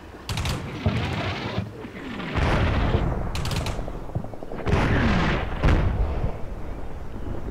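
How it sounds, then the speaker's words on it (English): Mortar fire from the military game Combat Mission Shock Force: several loud, heavy booms and blasts come in separate bursts, with rumbling tails and mechanical clatter between them. "I'm going to go ahead and suppress that area with my mortars."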